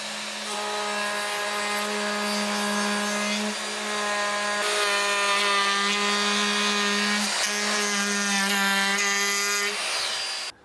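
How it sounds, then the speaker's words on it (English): A small 12-volt router whines at a steady high pitch while chamfering wood, its tone dipping briefly under load and rising again, running continuously before stopping. "put in my little 12-volt router,"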